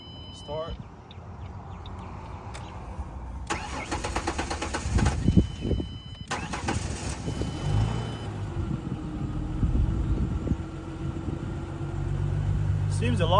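A 2005-2009 Ford Mustang cranks and starts after a fuel rail pressure sensor replacement, then settles into a steady idle, with a brief start burst midway and an even low engine hum continuing to the end, with people talking around it.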